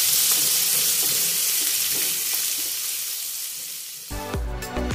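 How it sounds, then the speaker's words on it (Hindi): Chopped onions fry in a pan over a medium flame, a steady close hiss and crackle of sizzling oil throughout, ending with a brief clatter of stirring near the end. "प्याज को मीडियम फ्लेम पे हम 3 से 4 मिनट तक फ्राई कर लेंगे"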